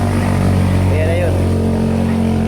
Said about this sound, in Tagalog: Medyo maingay dito sa lugar namin kasi tabing kalsada lang yung transferan ko.